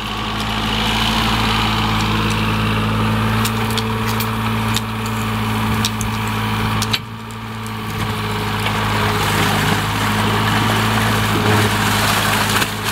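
A drilling rig's engine running steadily while boring a borehole, a loud low drone with a constant hum and faint metallic knocks and clatter on top, briefly dipping midway before resuming, with no talk.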